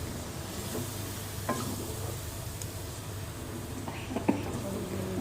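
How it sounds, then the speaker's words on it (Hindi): Tomato paste fries in a pan for achari chicken, a steady soft sizzle with occasional spoon scrapes and stirs, fairly quiet and continuous, with faint speech-like murmur in the background. "अब इसको अच्छे से फ्राई करना है।"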